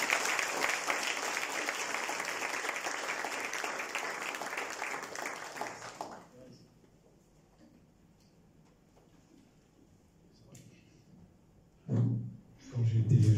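A book launch crowd breaks into dense, sustained applause for about six seconds, then it cuts off into near silence before a brief rustle and a bump.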